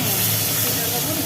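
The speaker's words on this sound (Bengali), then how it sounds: "তাহলে মাছ ভাজা হচ্ছে তাই তো" Hilsa fish frying in hot oil, giving a steady, loud, broadband sizzling hiss throughout with no pauses.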